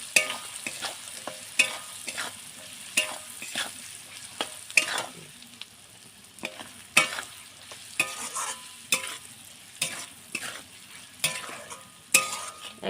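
A spoon repeatedly scrapes through sour-spicy mango pickle with spices in a hot pan, making sharp, rhythmic stirring strokes about once a second over a low sizzle, close and alone.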